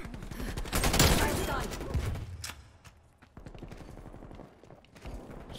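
Krig 6 rifle fire in Black Ops Cold War multiplayer, loud bursts of shots in the first two seconds that fade into quieter, scattered gameplay sounds.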